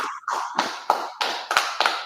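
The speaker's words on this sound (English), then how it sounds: "Let's clap it up for the Lord, man." Rhythmic hand clapping at a religious scripture gathering, a steady run of sharp, evenly spaced claps about three per second, fairly close and clear with no voices over them.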